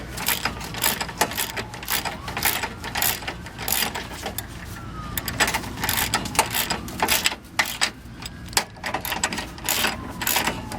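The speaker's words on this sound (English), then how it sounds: "Tighten the bolts." Large ratchet tightening four 10mm frame bolts on a 2001 Dodge Caravan 3.3L V6 during radiator replacement: close, rapid bursts of clicking pawl strokes in uneven runs, with brief pauses between them.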